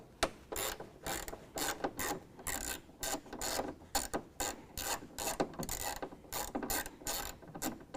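Ratchet wrench backing out a T30 Torx head bolt in the bed of a 2016 Toyota Tacoma, a rapid series of sharp clicking bursts in short irregular runs, close up and with no talk.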